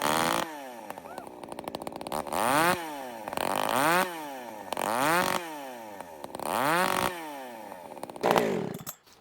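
A chainsaw fitted with a custom exhaust pipe revs hard about five times in a row, each rising howl dropping back briefly, loud and close with no talking.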